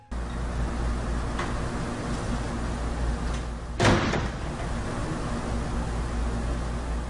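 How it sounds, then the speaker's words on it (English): A storage room door slams shut once midway through a steady hiss of background noise, a sharp loud bang standing alone with nothing else happening. "a moment later, the door next to it slams closed"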